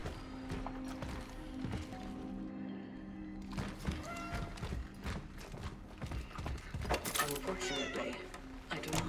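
A cat meows repeatedly inside the video game Cronos: The New Dawn, mixed with game thuds and clatter and a person talking at times.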